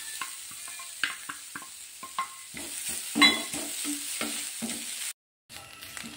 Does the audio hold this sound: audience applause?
no